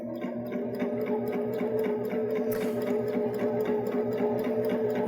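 A Baby Lock Jazz II sewing machine topstitches down a fabric edge, running in a steady, fast mechanical chatter of needle strokes at close range for the whole stretch, with no voices.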